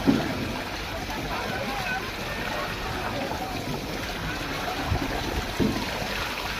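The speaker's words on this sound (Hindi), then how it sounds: "ये तो ठंडा दरिया का पानी।" Cold river water rushes past as a steady, broad hiss with a few soft splashes. Voices of people nearby are heard faintly over it.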